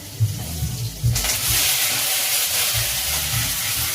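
Ginger hitting a hot pan with a sudden loud hiss that surges and then holds as a steady sizzle, with stirring bumps underneath and nobody speaking.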